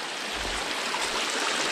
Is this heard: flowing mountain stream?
yes